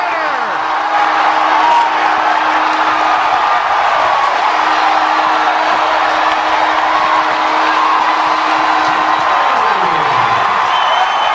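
A baseball crowd roars and cheers after a walk-off home run, a loud, sustained wall of cheering and whoops that carries for seconds, with a brief siren-like tone sliding down near the end.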